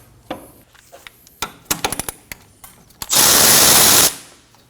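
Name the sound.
removing nut with 17mm socket on Kia Optima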